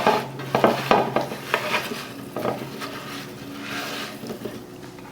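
Food being tossed and mixed to coat it evenly for a steak and potatoes dish, with clattering utensil-on-bowl scrapes and knocks in bursts, fairly close and alone.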